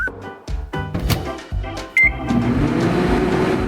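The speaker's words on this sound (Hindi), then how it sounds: "और अब इसे माइक्रोवेव में रख देता हूँ और थोड़ा इंतजार करना होगा" A microwave oven runs with a steady hum after a series of sharp clicks and button beeps, loud and close, with no talking.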